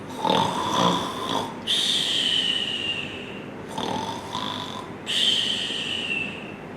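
A voice imitates loud snoring, with several long rasping inhales and whistling exhales repeating in a slow rhythm.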